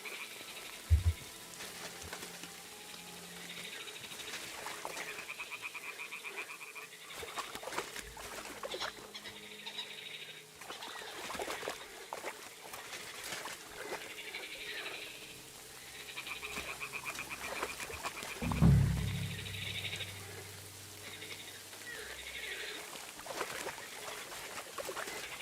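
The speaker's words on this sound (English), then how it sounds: "Ah, the toads are croaking here." Toads croaking in the video game Kingdom Come Deliverance 2, repeated low croaks scattered over a quiet outdoor ambience of faint water trickle and rustles, moderately near, no speech.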